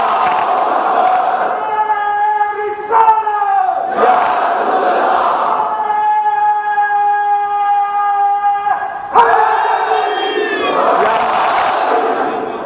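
A congregation at a Muharram majlis shouts religious slogans in loud unison, three chanted bursts with sustained voices between them and sharp collective shouts at each start.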